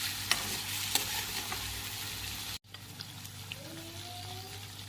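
Ridge gourd cooking in a pan with salt for a Gujarati sev tameta-style vegetable dish, giving a steady low sizzle with a few sharp utensil clicks and a brief cut in the middle, no talking.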